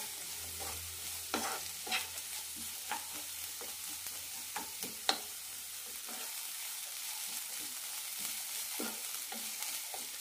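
Cabbage being sautéed and stirred in a pan for cabbage chutney gives a soft sizzle under repeated scraping strokes of a spatula, louder in the first half, with a low hum fading out midway.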